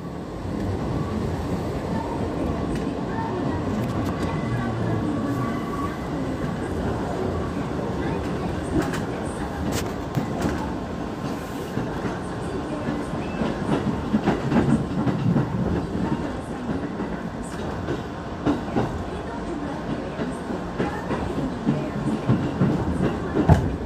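A KRL electric commuter train, JR 205 series, runs steadily on the Manggarai–Cikarang line, wheels clattering over the rails with a continuous loud rumble and occasional squeals and voices inside the carriage.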